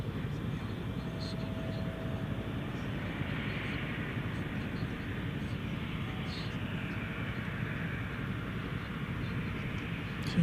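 Jet airliners rumble steadily at DFW Airport at night, a continuous broad roar holding for the whole stretch, moderately distant, with faint talk in the background.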